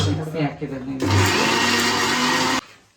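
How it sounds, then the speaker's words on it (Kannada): Brief voices, then a mixer grinder grinding mint without water kicks in with a loud, steady whir for about a second and a half before stopping abruptly. "ನೀರು ಹಾಕ್ದೆ ಮಿಕ್ಸಿ ಹಾಕ್ತಾವ."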